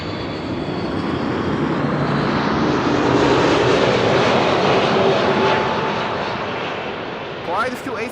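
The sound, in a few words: KLM airplane landing at Amsterdam Schiphol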